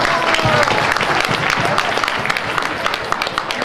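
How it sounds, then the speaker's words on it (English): A wedding audience gives another round of applause, close, irregular hand claps forming a busy patter that starts strong and gradually thins, with some voices mixed in underneath. "Let's give him one more round of applause."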